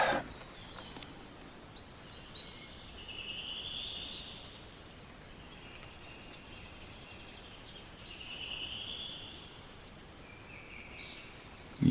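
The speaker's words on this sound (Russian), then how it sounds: "На улице птицы поют." Wild birds sing outdoors in a spring forest during a hunting trip, several calls drifting in at a moderate distance over a steady hiss of ambient noise, with no talk.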